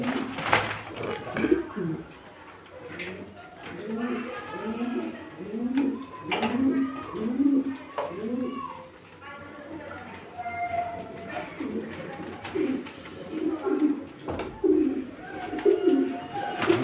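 Pigeons at a pigeon farm in Bhawal Mirzapur, Gazipur, cooing in repeated soft, close, throaty phrases over a steady background hum, with a voice speaking at times.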